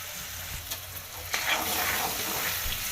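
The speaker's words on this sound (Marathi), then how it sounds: "आता टाकू टमॅटो छान असं मिक्स करून घेऊया फ्राय करून घेऊया" Tomatoes fry in a pan while being stirred, a loud continuous sizzle with scraping stir strokes building toward the end, close and without speech.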